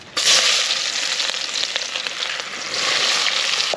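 Chopped onions sizzle in hot oil in a pan for Maggi noodles cooked at a farm, a steady close crackling fry with scattered pops and no talking.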